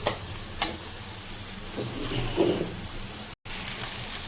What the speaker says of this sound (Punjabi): ਸਾਢੇ 2 ਮਿੰਟ ਹੋ ਗਿਆ ਭੁੰਨਦੇ ਨੂੰ ਲਸਣ ਅਦਰਕ ਦਾ ਪੇਸਟ